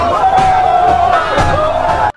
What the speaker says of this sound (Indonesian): Keberhasilannya itu disambut sorak gembira pasukan.